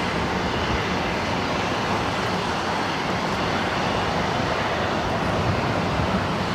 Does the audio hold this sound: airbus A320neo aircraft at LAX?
yes